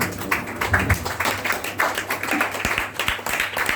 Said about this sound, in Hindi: महिमा के एक बार फिर से प्रभु को तालियां बजाएंगे